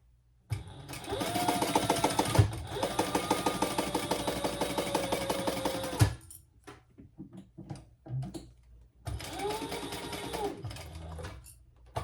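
A sewing machine bastes fabric in three bursts of rapid, even stitching, the longest running about five seconds, separated by quiet pauses with faint handling sounds; close and moderately loud, with no speech.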